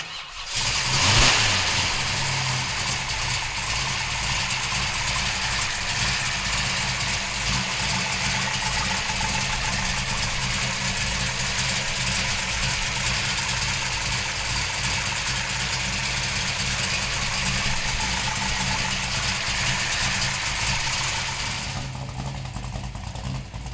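A 1969 Chevrolet Camaro Pro Street engine fires up with a brief crank, then settles into a loud, steady, rumbling idle that runs close and uninterrupted for about twenty seconds before easing slightly at the end.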